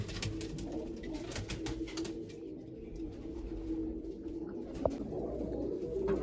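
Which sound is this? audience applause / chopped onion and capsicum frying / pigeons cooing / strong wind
pigeons cooing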